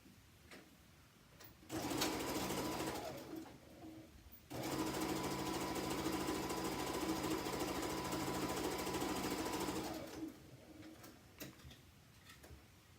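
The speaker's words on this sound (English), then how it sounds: "I'm going to just stitch up that little seam that we left open." A sewing machine runs in two steady bursts while stitching the open seam of a quilted Christmas stocking, the fast even whirr close and fairly quiet, with brief pauses and soft handling noises around it.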